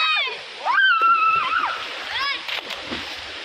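A splash of water as someone jumps into a village river while swimming, with excited voices talking over it and flowing water behind.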